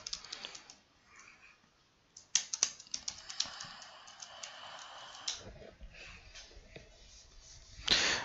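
Someone types a username and password on a computer keyboard, with quick bursts of light key clicks separated by pauses and a sharper clack near the end.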